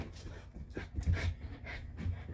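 A dog pants softly in quick breaths, with faint whimpers mixed in, quiet and close.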